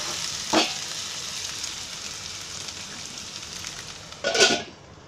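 Dal cooking in a pan gives a soft, steady sizzle, broken by two short scraping bursts of stirring, near and moderately loud.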